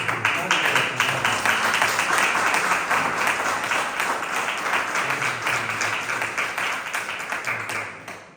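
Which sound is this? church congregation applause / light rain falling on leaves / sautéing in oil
church congregation applause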